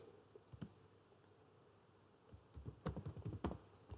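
Quiet desk clicks and keyboard taps while programming KNX blinds, sparse at first, then a quick irregular cluster of close, light clicks toward the end.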